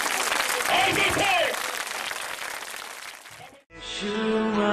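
A church congregation claps together in thanks after a healing prayer, a dense burst of applause over a voice, fading out before hand-clapped rhythm and music rise at the end.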